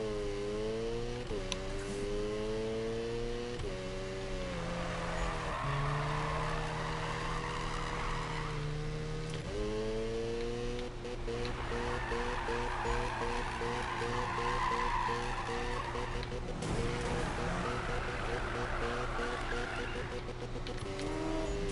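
A racing car in the Need for Speed video game roars steadily with a loud, continuous engine whine that rises and falls through gear changes, mixed with repeated tire squeals and skids and no talking.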